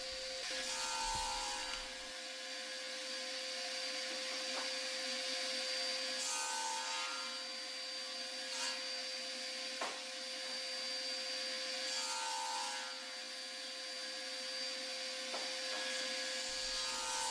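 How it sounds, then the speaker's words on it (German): A hand saw rasps back and forth through wood in repeated strokes, recutting a miter, fairly close, over a faint background hum. "Weil mir der erste Sägedurchgang nicht so recht gefallen hat, schneide ich die Gärung nochmals etwas nach."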